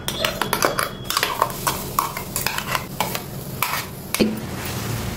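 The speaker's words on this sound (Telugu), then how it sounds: "మనం గ్రైండ్ చేసుకున్న ఈ మామిడి పండు గుజ్జుని ఇందులో వేసేసుకుందాం" Ground ripe mango pulp is stirred in a frying pan for coconut laddu, with repeated scraping spatula strokes and soft sizzling close by.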